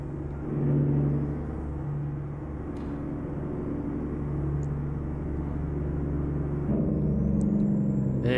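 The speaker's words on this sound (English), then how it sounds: "Big jake brake now." An American Truck Simulator big rig engages its jake brake, producing a loud, steady low rumbling drone with throbbing engine tones that holds for several seconds and shifts near the end.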